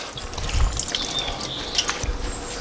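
Water, about 500 ml, is poured into a stew pot of goat, chorizo and potatoes set on a Kamado Joe grill, giving a continuous close splashing and trickling wash for a few seconds, with no talk.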